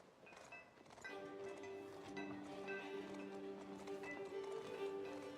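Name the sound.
horses walking, hooves clip-clopping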